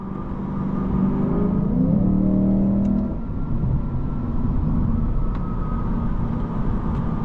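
A 2023 Lexus IS 500 F Sport V8 rises in pitch as it accelerates, then drops after a shift into a steady deep rumble, heard from inside the car while driving, with no one talking.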